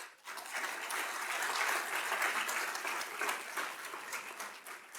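An audience applauds dignitaries at a council swearing-in ceremony, with steady, dense clapping that carries on evenly for several seconds and fades slightly at the end.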